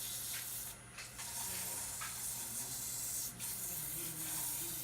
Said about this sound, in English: Sanding a little slower keeps the dust down